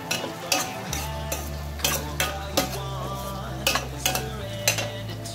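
A utensil stirs tomatoes in a cooking pot, knocking and scraping against the sides in a repeated irregular rhythm over a low sizzle, close up and moderately quiet.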